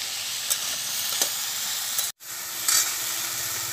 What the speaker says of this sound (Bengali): আলুটা আমি হালকা করে ভেজে নিয়েছি